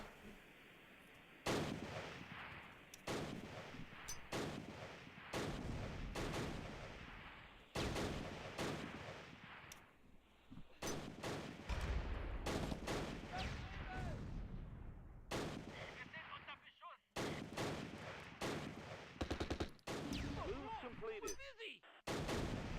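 Grenade blasts and gunfire from Close Combat Last Stand Arnhem, a Vickers machine-gun group attacking an enemy vehicle. Repeated loud explosions and bursts of fire come in rapid succession with short gaps between them.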